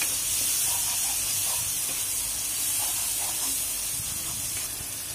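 Spice paste for a chewa fish dopeyaza sizzles in oil while being stirred, a steady close hiss with faint scraping of the spoon and no talking.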